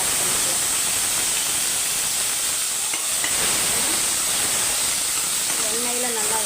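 Ginger garlic paste sizzles in hot oil for a mutton kuzhambu, a loud, steady steamy hiss that fills the whole stretch, with a brief faint voice near the end.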